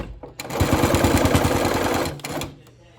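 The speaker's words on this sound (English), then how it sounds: "Then turn your machine, turn your quilt, and keep getting it to the next corner." A sewing machine stitches a pinwheel quilt in a fast, loud mechanical rattle that runs for about two seconds, then stops, followed by quieter handling noises as the quilt is turned.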